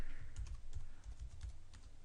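Typing on a computer keyboard, a quick burst of close, soft key clicks in an irregular rhythm over a low hum, with no talking.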